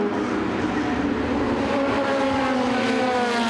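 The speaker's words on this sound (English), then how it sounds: "Car number 1, Peter Whelan." A 1977 Chevron B42 race car at a historic motorsport meeting drives by, its engine note a steady, loud, buzzing drone that fills the whole stretch with no gaps.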